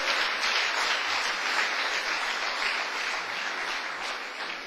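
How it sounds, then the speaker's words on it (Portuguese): A congregation claps for the Lord during a church sermon, a dense, even wash of many hands that stays steady and fairly distant and then tapers slightly toward the end. "Uma salva de palmas para o Senhor."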